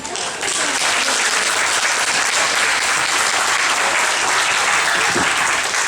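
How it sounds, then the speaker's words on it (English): Spectators at a show featuring a white Bengal tiger cub burst into applause. The sustained, loud wash of clapping from a big crowd stays even and unbroken for about six seconds. "Lords and ladies, a nice round of applause for little Miss Moxie"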